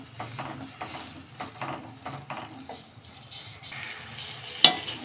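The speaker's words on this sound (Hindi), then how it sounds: "अब इस मसाले को हम इसमें डाल देंगे और अच्छे से इसको मिक्स करेंगे।" Spoon stirring masala through sev tomato curry in a pan, a soft scraping and gentle sizzle repeating steadily at close range, with one sharp clack near the end.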